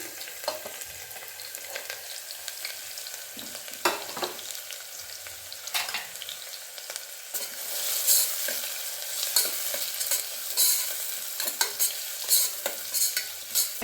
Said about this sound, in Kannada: ಈರುಳ್ಳಿ ಮಾತ್ರ ಹಾಕ್ತಿದ್ದೇನೆ